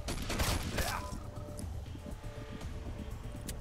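A loud burst of rapid gunfire opens, followed by scattered shots and mechanical clatter over a busy soundscape in the video game Wasteland 2.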